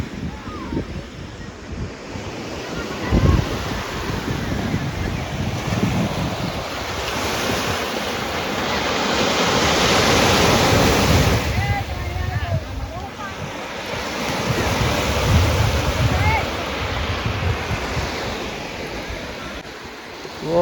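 Waves wash steadily onto the seashore at Somnath temple in Gujarat, under a strong wind that buffets the microphone. The continuous roar swells louder around the middle and again near the end.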